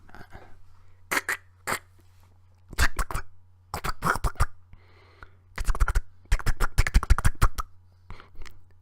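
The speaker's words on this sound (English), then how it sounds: "And that was the sound of clicking a pen." Pen clicks recorded for a podcast sound segment, sharp bursts in irregular clusters with a quiet gap between groups and a low steady hum underneath.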